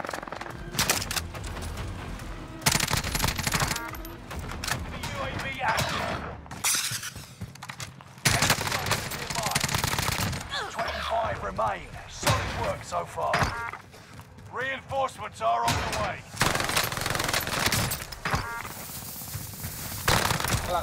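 Heavy gunfire in Call of Duty Warzone, including a Groza rifle, comes as loud repeated bursts and sharp cracks with impacts, separated by brief lulls and mixed with a talking voice.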